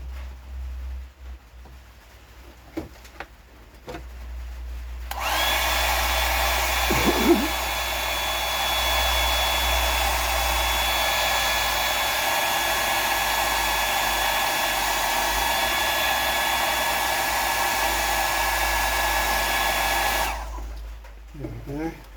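A hair dryer blows steadily and loudly for about fifteen seconds, drying a freshly tied Green Prawn fishing fly, switching on abruptly and cutting off just as sharply at the end.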